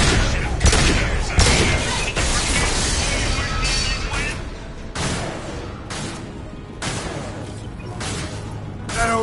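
Gunfire and crashing impacts in Mass Effect 2 as shots bring down a loose fuel tank, a dense, continuous barrage of bursts and smashes with game voices talking over the din.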